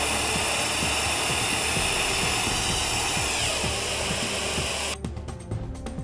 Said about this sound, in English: Watch as the golf ball is propelled through this 100-foot length of hose